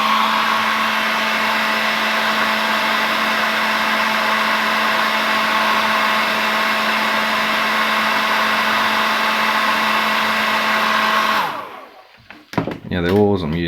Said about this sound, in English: I'll hit that with the hairdryer.